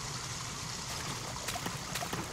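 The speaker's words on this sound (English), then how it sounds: "Water's coming out of there." Water trickling out of a pipe in the horror game Amnesia: The Four Horsemen, a steady, soft stream with faint gurgles and small splashes over a low ambient hum.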